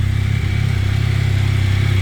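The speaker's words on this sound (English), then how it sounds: "we're trying to check out what this exhaust sound like" A Can-Am Spyder F3 three-wheeler with an aftermarket exhaust runs close to the microphone, giving a loud, deep, rapidly pulsing engine burble with a slight swell in revs. No one speaks.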